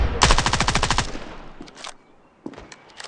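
A rapid burst of automatic gunfire in a shooting video game, loud and close, followed by a few scattered single shots and quieter movement sounds.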